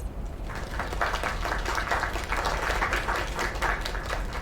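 An audience gives a sustained round of applause for a singer's performance, a dense, steady wash of clapping that holds at an even level throughout, fairly loud and close.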